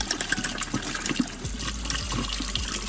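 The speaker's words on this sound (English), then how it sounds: "Dump and rinse the water again." Paint rinse water for acrylic painting being dumped and the cup rinsed, a steady close gush and splash of running water throughout.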